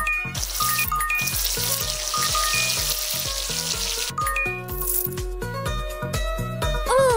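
A hissing spray of rinsing water runs steadily for a few seconds in a kids' jungle animal hair salon game, layered over bouncy, repetitive background music.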